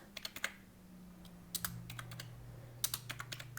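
Clicky calculator keys pressed in short quick bursts, close and crisp, with pauses between runs of taps and a low steady hum underneath.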